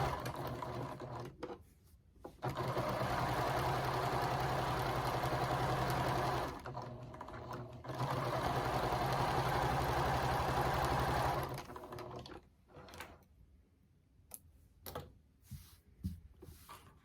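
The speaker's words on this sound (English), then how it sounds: "I'm going to just sew right on that line through the cotton and the quilt batting." A sewing machine stitches through cotton and quilt batting for a reversible microwave bowl cozy, running in long steady buzzing bursts with short pauses between them, then a few scattered softer clicks and handling sounds near the end.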